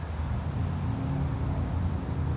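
A cicada buzzes in a steady, loud, unbroken drone, close and alone for the whole stretch.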